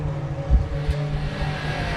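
A Seat touring car passes on track during a Supercar Challenge race at Slovakiaring, with close, loud engine roar and low rumbling accelerating through the pass.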